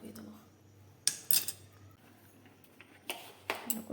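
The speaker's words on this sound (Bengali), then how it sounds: "ভালো করে মিশিয়ে দেবো।" A spoon clinks and scrapes against a bowl while ingredients are mixed with ghee and salt. It is quiet and close, with a few sharp metallic taps over a low steady hum.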